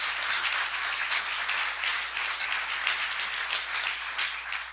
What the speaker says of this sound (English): we should probably wait and hold the applause till they vote